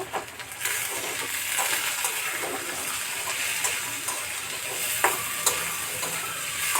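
Thick-cut onion pieces hit hot oil in a pan and fry with a bright, steady sizzle, broken by a few sharper pops and stirring sounds; close, with no one talking.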